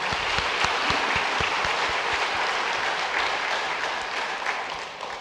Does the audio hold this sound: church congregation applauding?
yes